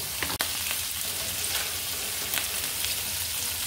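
Soya chunks fry in a pan with turmeric and salt, giving a close, dense, continuous sizzle with a few crackles and spatter pops throughout.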